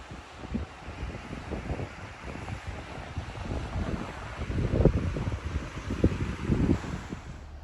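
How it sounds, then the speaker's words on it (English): Ocean waves wash ashore with steady wind at the Nordhouse Wilderness Area, a continuous broadband rush that swells in several louder surges toward the end, with no voices. "Pull out the sound of the waves."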